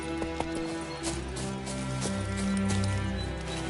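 Roach, Geralt's horse in the video game The Witcher 3, trots with steady clip-clopping hooves, close and clear, over a soft musical game background with no speech.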